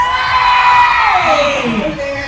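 A live show crowd in Bacolod roars with cheers, whoops and shouts, a dense, loud wall of excited voices sustained throughout and easing slightly toward the end.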